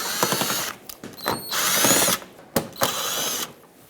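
A power drill with a Phillips bit whirs in several short bursts with pauses between them, backing out screws from the front bumper cover of a 2012-2018 Nissan Altima.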